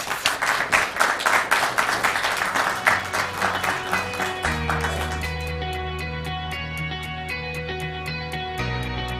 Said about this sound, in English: please give him another warm round of applause